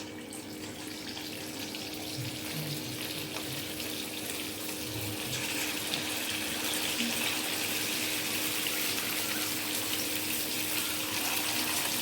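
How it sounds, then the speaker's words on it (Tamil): Marinated chicken pakora pieces frying over a medium flame in hot oil, giving a steady, even sizzle and hiss that holds throughout without voices. "இதில் வந்து நம்ம ஊற வச்சு எடுத்து வச்சிருந்த சிக்கனை ஒன்றா போட்டுடலாம் ஃப்ரை பண்ணுறதுக்கு"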